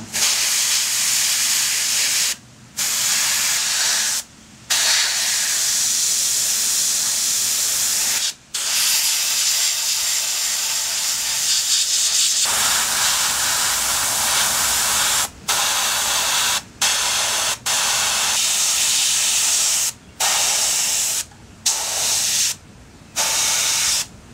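Airbrush spraying paint onto an Imperial Fist Land Raider model, a steady loud hiss in long bursts broken by several brief pauses.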